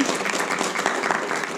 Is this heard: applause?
yes